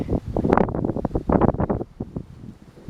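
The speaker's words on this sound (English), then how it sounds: "this wind is not going to get any better" Strong wind buffets the microphone outdoors near parked Jeeps, a continuous loud rumbling roar with gusty surges and no voices.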